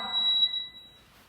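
A workout timer sounds one sustained electronic beep at moderate volume as it starts, holding steady and then fading out, with no talking over it.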